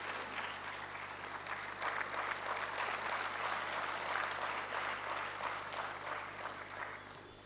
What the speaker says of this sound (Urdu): اور تب آپ کے لیے تالیاں بجائی جائیں.